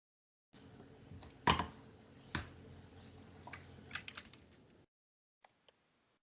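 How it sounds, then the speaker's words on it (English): Computer keyboard typing during an online class, a steady run of close, fairly quiet key taps with a few louder strokes, stopping abruptly, then two faint isolated clicks. "So, Bright, I'm going to type in the chat."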